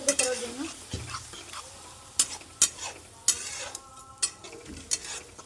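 Banana flower curry with chana dal is sautéed in a pan with a splash of water, giving a soft sizzle under irregular clanks and scrapes of a spatula against the pot, close by, with a few faint background sounds.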